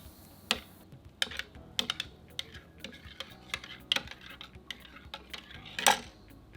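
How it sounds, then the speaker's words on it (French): A spoon stirs a drink by hand at an EasyMug 3012 beverage cart, with a series of light clinks and taps of metal against the cup, close and irregular, and no one talking. "Terminez manuellement le mélange à l'aide d'une cuillère."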